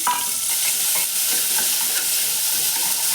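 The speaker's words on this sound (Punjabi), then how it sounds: "ਇਸੇ ਘਿਓ ਦੇ ਵਿੱਚ ਹੁਣ ਆਪਾਂ ਚਾਵਲਾਂ ਨੂੰ ਥੋੜਾ ਜਿਹਾ ਭੁੰਨਾਂਗੇ" Samak rice roasting in ghee over low heat for kheer, giving a steady close sizzle with light scraping of stirring throughout, no voices.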